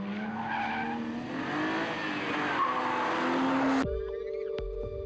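A BMW 135i with added BMW catalog parts and driver aids off accelerates hard as the rear steps out, tires squealing loudly over the rising engine note before it cuts off abruptly.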